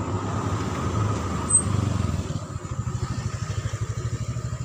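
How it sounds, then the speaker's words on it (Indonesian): A car passes by on a nearby road, its engine hum swelling and then giving way to a pulsing, throbbing motor sound that carries on steadily at moderate loudness. "Ada mobil."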